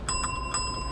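A small bell rings in a Hobby Lobby store, giving three quick bright dings with a sustained high ringing tone that carries through the second, set against quiet room noise.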